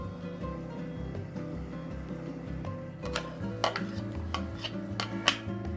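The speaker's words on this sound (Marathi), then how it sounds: "आता याला आपल्याला चांगलं परतून घ्यायचं।" Ground masala paste being sautéed in oil in a pan for a Marathwada umbar handi, with soft continuous sizzling and sharp metallic scrapes of a spoon stirring against the pan, growing busier toward the end.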